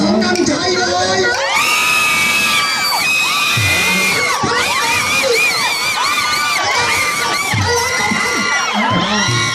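A loud crowd cheering and whooping at a Thai concert or festival, shrill voices and shouts layered continuously and close, with no break for the whole stretch.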